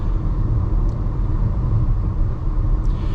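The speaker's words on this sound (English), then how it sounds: "There's a little bit of tire noise, a little bit of wind noise" Steady low road rumble inside a 2025 Chevy Trax 1RS on the move, with tire roar and a light wind hiss holding an even, continuous level throughout.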